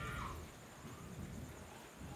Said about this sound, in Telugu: ఎక్కడ కొడుతుందేమో కానీ బాగా ఉరుముతుంది.